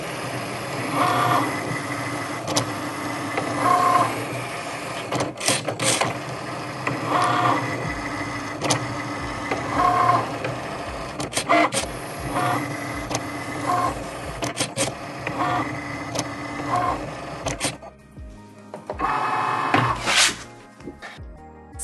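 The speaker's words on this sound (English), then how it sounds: "Now let's enjoy some ASMR cutting." A Cricut cutting machine cuts magnetic bookmarks, its motor whirring and buzzing in repeated back-and-forth passes with a steady mechanical rhythm, close and moderately loud.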